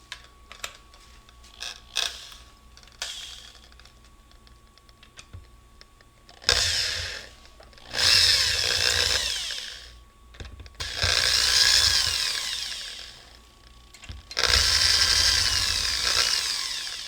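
An electric drill with an adapter runs in several bursts of a few seconds each on a 2002 Honda Odyssey automatic transmission, whirring loudly between quieter stretches of clicking and handling noises.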